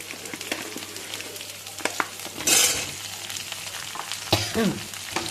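Potato, pointed gourd, pumpkin and drumstick pieces frying in a pan, a steady close sizzle broken by scraping stirs and a louder hissing burst midway as more vegetables go in.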